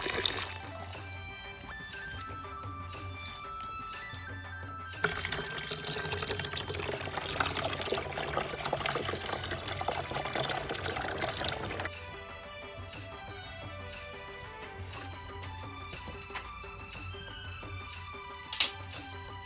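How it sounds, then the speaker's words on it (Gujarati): Sevda and bandala leafy greens are rinsed by hand in water, with steady sloshing and splashing that grows busier in the middle stretch before settling back to gentler swishing, over a faint background hum. "આ રીતે થોડા સેવડા અને બંડાળાની ભાજીને ધોઈ લઈએ"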